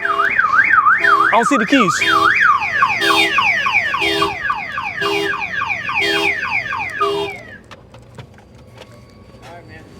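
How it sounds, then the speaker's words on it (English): A 1989 Toyota Supra's car alarm blares close by, first with a rapid warbling tone, then with repeated descending whoops, before cutting off, while someone speaks briefly over it. "I gotta hold the battery, take off the alarm when I put it up"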